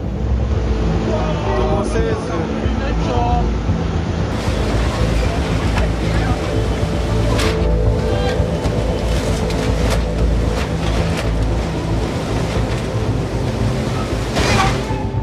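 Pacific Ocean waves wash against a boat in steady wind, the surf and hull noise continuous and close under gusty wind buffeting on the microphone.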